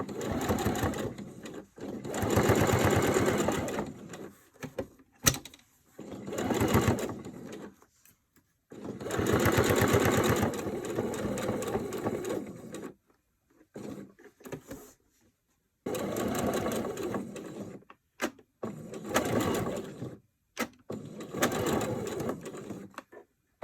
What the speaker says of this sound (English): I'm just going to sew this straight down through here.